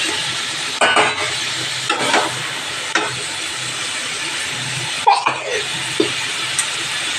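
Potatoes and pumpkin greens fry in fish oil, a steady close sizzle broken by several scraping stirs of a spoon or spatula against the pan at irregular intervals.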